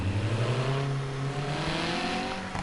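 Car engine revving down toward about 500 to 600 RPM, a close steady drone whose pitch slides downward smoothly over a couple of seconds with no voices over it.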